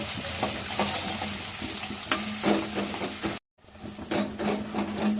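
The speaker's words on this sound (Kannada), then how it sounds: "ತಕ್ಷಣ ಒಂದು ಈರುಳ್ಳಿ ಹಾಕ್ತಾ ಇದ್ದೀನಿ ಸ್ವಲ್ಪ ಫ್ರೈ ಮಾಡೋಣ" Onion frying in hot oil with mustard seeds, cumin and curry leaves, a steady close sizzle with stirring clicks throughout, briefly cut off midway.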